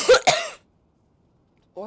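Two quick harsh coughs burst out close up from a person in pain, back to back, followed by silence and then the start of a voice.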